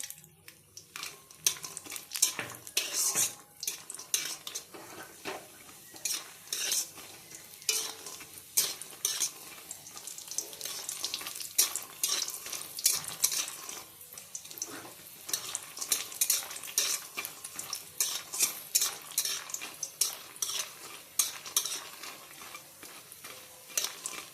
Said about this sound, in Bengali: তেল গরম হয়ে গেছে, এবার ডালের বড়িগুলি ভেজে নেব।